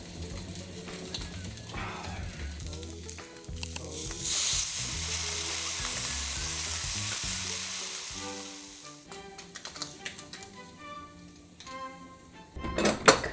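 Korean BBQ flavored Spam frying in a pan, a steady loud sizzle that swells in the middle, with the scrape and clatter of a utensil stirring against the pan and music playing underneath.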